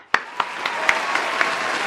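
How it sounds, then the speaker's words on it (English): A few sharp, separate hand claps ring out, loud and close, spaced unevenly over a steady background hiss. "start clapping for a bitch"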